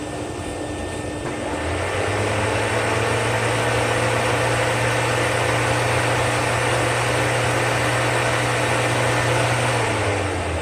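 A Rainbow E2 Platinum vacuum cleaner with a PN12 power nozzle starts up after a second or two, then runs at a loud, steady whine and drone to the end, with no talking.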